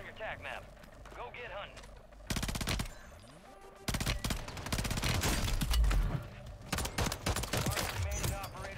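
STG 44 rifle fire in Warzone on Rebirth Island, rattling out in rapid automatic bursts separated by short pauses, loud and close, with game effects and background noise throughout.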